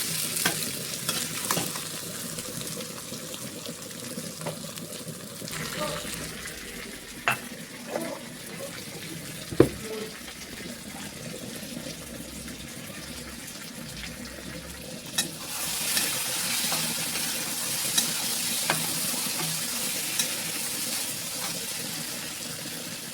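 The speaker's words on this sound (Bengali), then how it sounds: "খুব ভালো করে আমি কষিয়ে নেবো।" Chicken kolija being stir-fried (kosha) with coriander powder in a pan, a steady soft sizzle with scraping stirs and occasional sharp clinks of the spoon against the pan, no talking.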